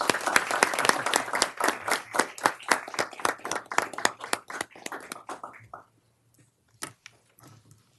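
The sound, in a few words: audience applause in council meeting room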